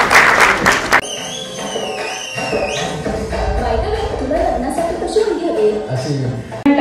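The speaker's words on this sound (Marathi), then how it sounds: "त्यामुळे एकदा जोरदार टाळ्या सुरुवात करा" An audience at a Marathi movie trailer launch event bursts into brief applause, then loud music and an amplified voice take over in a large hall.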